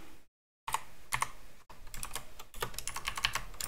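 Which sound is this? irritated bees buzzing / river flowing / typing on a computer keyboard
typing on a computer keyboard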